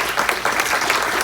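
Audience members clap at the Dearborn Heights City Council candidate forum, a loud, close burst of applause with individual claps standing out, continuing steadily to the end.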